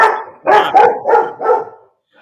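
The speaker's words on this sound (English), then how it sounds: "That's our dog." A pet dog barks loudly and close by in a home, with five quick barks in an uneven burst, nearly alone and with little talk over it.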